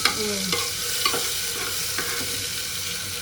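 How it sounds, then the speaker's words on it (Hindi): Pea paste frying in hot oil in a home kitchen, a steady close sizzle with a few soft stirring scrapes and no talking. "तो तेल में अब हमने जो मटर का पेस्ट बनाया था उसे भी डाल दिया है, और इसको हमें फ्राई करना है"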